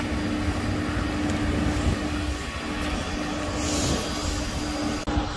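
Aircraft engines run steadily on an airport apron at Juanda, Surabaya, beside a Citilink airliner, a loud continuous roar with a sustained tonal hum that briefly dips near the end.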